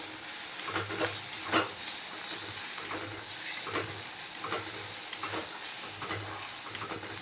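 Bitter gourd (karela) sizzles steadily in a pan while a spatula scrapes and taps through it at irregular intervals, with a low hum underneath.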